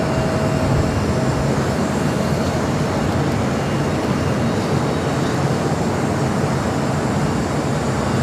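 An airplane at LAX airport, likely an Emirates A380, gives off a loud, continuous broadband engine roar that holds steady throughout with no speech.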